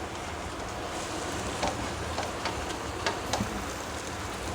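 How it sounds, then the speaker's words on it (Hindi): Spices and onion sizzle with raw mango in a pan with a little water added, giving a steady dense hiss of frying with faint scattered pops and ticks and no voices. "इस तरह से मसाले को प्याज के साथ भून लेंगे"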